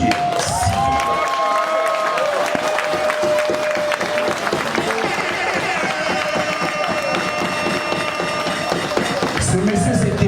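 Wedding guests applauding the groom's father at a Congolese ceremony, loud crowd clapping and cheering mixed with music and voices throughout.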